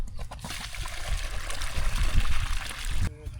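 Water pours and splashes steadily onto the ground around newly planted coconut saplings for a few seconds, then stops abruptly, with a voice briefly audible near the start.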